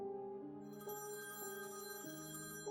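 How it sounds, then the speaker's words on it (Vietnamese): A telephone rings quietly in a repeating electronic tone pattern that steps between pitches, heard alone against silence. "Chuông điện thoại vang lên, đánh thức Ashley đang ngủ."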